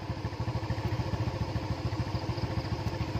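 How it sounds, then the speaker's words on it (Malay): A four-stroke motorcycle engine runs steadily close by at night, its rapid, even pulsing thump carrying a low, rumbling chug throughout. "jadi saya pakai motor four stroke hari ni"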